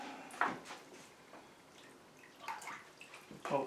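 Dehydrated drum skins for a medieval drum kit are dropped into a box of hot water, making a few soft splashes and sloshes spread over a few seconds, close by and fairly quiet.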